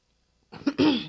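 A single throat-clearing cough from a podcast host, sudden after near silence, two quick rough bursts close to the microphone.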